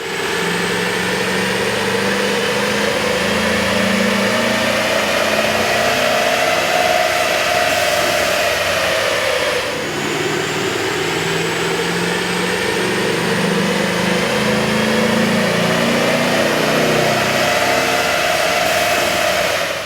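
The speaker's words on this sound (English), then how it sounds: "we ran the vehicle on the dyno to test the sound comparison versus the stock intake" A 1999-2004 Chevrolet Silverado 5.3L V8 fitted with a K&N air intake runs steadily on a dyno, with a loud continuous engine drone and intake whine that rises in pitch, drops briefly near the middle, then climbs again.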